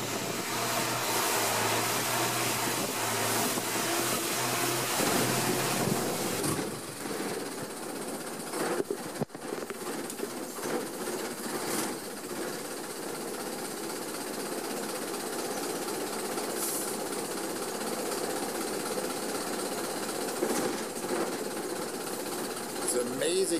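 A steady boat engine drone rumbles throughout on a Bangkok canal, with faint voices and bursts of background noise over it.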